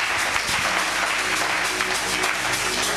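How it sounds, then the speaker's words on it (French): Church congregation applauding and cheering for the Lord during a Sunday service, a steady dense wash of clapping from many hands throughout, with a few sharper individual claps standing out. "Nous acclamons très fort le Seigneur"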